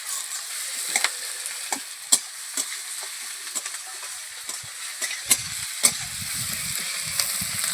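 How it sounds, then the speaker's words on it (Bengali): Chopped onions fry in a pan for a chicken curry, giving a continuous hiss broken by sharp, irregular scrapes and taps of a utensil stirring them. "নাড়াচাড়া করে লাল লাল করে পেঁয়াজটাকে ভেজে নেবো।"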